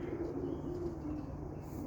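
Roller pigeons cooing softly near a loft in the morning, a faint, continuous low murmur of overlapping coos with no talk.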